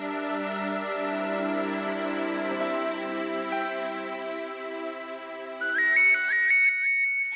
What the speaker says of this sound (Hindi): एक मिनट, करण का फोन है।